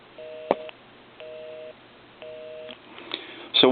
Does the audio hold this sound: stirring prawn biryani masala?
no